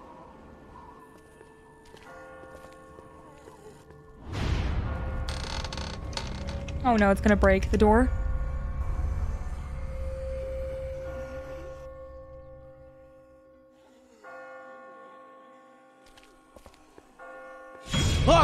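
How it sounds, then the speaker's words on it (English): Bells ring in The Walking Dead video game, a brief cluster of bright metallic tones arriving suddenly after a loud burst and fading within a second or two, with a low rumble and muted voices around them. "I just got spooked by those bells"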